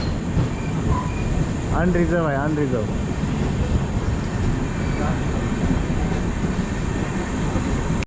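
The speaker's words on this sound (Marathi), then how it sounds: "आता आमची ट्रेन आलेली आहे फायनली" A train pulls into a crowded station with a steady heavy rumble and a brief squeal of wheels, while people talk and shout nearby through the constant noise.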